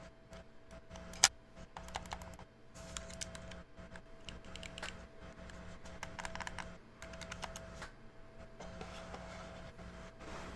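Clicking buttons and triggers on a GameSir Cyclone 2 game controller, a steady run of quick, close plastic clicks and taps with one sharper snap early on, no talking.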